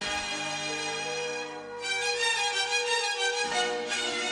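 A sustained chopped audio sample plays from a keyboard on C5, one held sound that shifts brighter partway through, clean and upfront with no voices.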